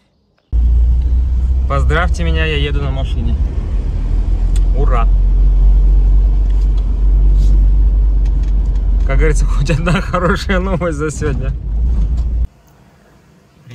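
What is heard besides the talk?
car driving, engine rumble from inside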